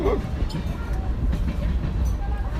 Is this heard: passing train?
yes